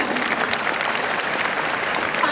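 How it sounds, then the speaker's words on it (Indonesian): A university dome audience at a Mata Najwa taping bursts into loud, dense applause for Pak Dahlan, a continuous wall of clapping that fills the whole short moment. "Jadi boleh tepuk tangan buat Pak Dahlan"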